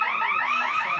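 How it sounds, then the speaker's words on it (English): A fire alarm sounds on a busy film set during a yearly drill, a loud steady electronic tone with a warbling pattern that repeats without a break for about a second. "and now there's a fire alarm."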